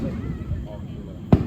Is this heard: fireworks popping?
yes